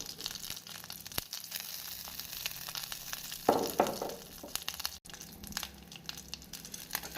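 Mustard seeds, fenugreek, dried chilli, curry leaves and asafoetida frying in hot oil for lemon rasam: a close, steady sizzle with a sudden louder burst of crackling and spluttering partway through.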